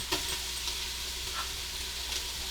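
Chopped onion with minced garlic and ginger sizzling in a hot pan, a steady close crackle and hiss with faint stirring scrapes and no talking.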